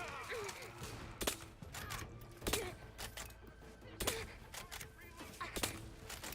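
Silenced gunfire from a video game weapon: a handful of muffled, thudding shots spaced irregularly over a steady background bed, with a voice faintly present.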